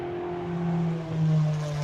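BMW GT race car engine holding a steady drone as it climbs uphill toward a timing beam during qualifying at the Algarve circuit, slightly rising and falling, heard at a moderate distance.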